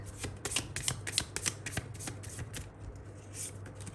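Tarot cards being shuffled and pulled, a quick run of crisp riffling flicks and soft card slaps, close and fairly quiet, with a steady low hum behind and no talking.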